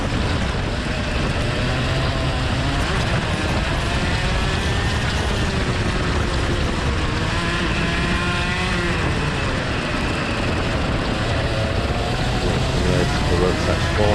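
Rotax and X30 racing karts running a sprint circuit with a chicane, a dense buzzing whine of several small two-stroke engines revving and passing, under a constant commentary voice.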